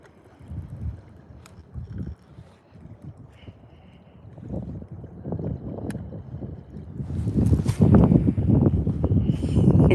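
Wind gusts across a lake during a bass fishing outing, buffeting the microphone in irregular low rumbling bursts that build stronger and denser toward the end, with faint boat and water sounds beneath.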